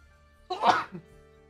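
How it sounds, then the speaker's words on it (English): A single sneeze from a person in a quiet room, close and sharp, rising quickly and then trailing off in under half a second. "I need to sneeze."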